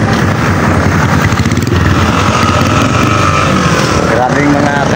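Motorcycles and other vehicles pass along a busy road in Maragusan, Davao de Oro, their engines droning loudly and steadily at close range while someone talks over the traffic.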